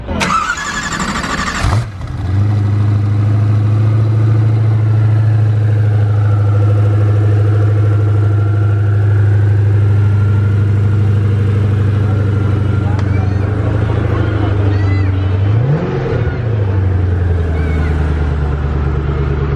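A Koenigsegg supercar's engine idles loud and close as a steady, deep rumble, after a brief burst of noise at the start and a small rev swell near the end; people talk over it at times.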